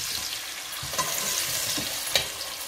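Onions fry in a pan and are stirred now and then, giving a soft, constant sizzle with a few brief scraping knocks.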